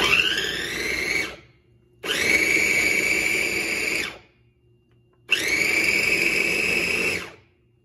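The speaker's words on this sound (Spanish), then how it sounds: "Vamos a licuar solamente un poco, no queremos que quede bien licuado," A kitchen blender pulses three times on pineapple with cornstarch water, each burst a loud, close whirring roar lasting one to two seconds, separated by short silences as it spins down.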